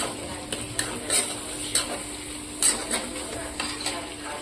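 Chopped onions and two medium tomatoes fry in a pan while a spatula stirs, giving a steady sizzle punctuated by a series of sharp scraping and clinking strokes, close and clear with no talking.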